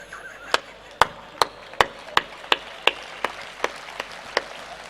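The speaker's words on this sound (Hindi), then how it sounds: "2-3 लोग ताली बजा रहे हैं" Sparse handclaps from just two or three people, about a dozen sharp separate claps at an uneven, slightly slowing pace, sounding thin against a quiet hall rather than full applause.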